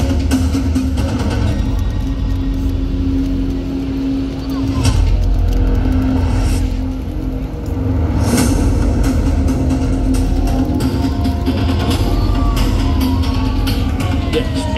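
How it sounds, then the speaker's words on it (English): Peacekeeper response vehicles and Terrex infantry carrier vehicles drive past in a National Day parade at the Padang, a loud, continuous engine rumble with a droning hum. A voice talks over it throughout. "Entering the Padang are the Peacekeeper response vehicles and Terrence infantry carrier vehicles"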